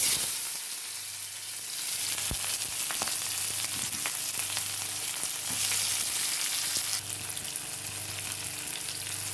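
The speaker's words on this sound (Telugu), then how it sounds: "వంకాయ టమాటా ముక్కలు వేగిపోయినాయండి." Brinjal and tomato pieces fry in a pan of oil, giving a continuous, even sizzle close by with occasional faint pops and clinks, no voices.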